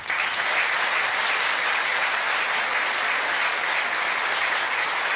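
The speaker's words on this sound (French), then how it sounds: "ça mérite vraiment un torrent d'applaudissements" Loud, sustained applause from a large TV studio audience fills the whole stretch, a dense, steady roar of clapping with no pauses.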